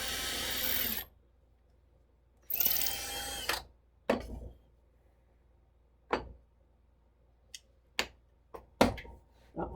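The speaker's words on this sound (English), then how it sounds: "I'm going to put it on there and let's drill this out." Power drill boring out a wooden hinge, heard in two sustained bursts of whirring followed by several short sharp clicks and taps, close and fairly loud with quiet gaps between.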